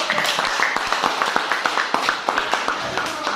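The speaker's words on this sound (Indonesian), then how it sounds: "Oke, tepuk tangan dulu." A classroom group claps after a presentation, a modest round of distinct hand claps with a fairly regular rhythm, close by and moderately loud.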